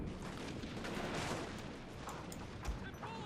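Dense, continuous volleys of rifle fire crackle and rumble from massed Boshin War-era infantry in the Total War: Fall of the Samurai strategy game, steady and loud throughout with a sharper burst near the end.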